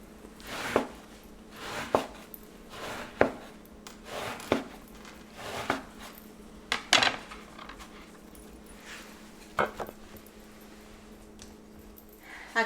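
A knife slicing bread for capirotada, a Mexican Holy Week bread pudding. About a dozen crisp, evenly spaced cutting strokes land roughly once a second, close by and fairly quiet, with no talking.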